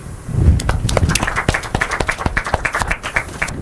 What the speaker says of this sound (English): I think we can clap better. We're getting on the low with our claps right now.